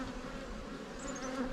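Honey bees buzzing in a dense, steady hum while a beekeeper rakes them down off the frames during hive setup in a new bee yard, close and continuous with no talk.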